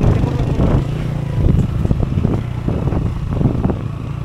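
A motorcycle rides down a mountain road near Ambaguio, Nueva Vizcaya, its engine a steady low drone with wind buffeting the microphone throughout.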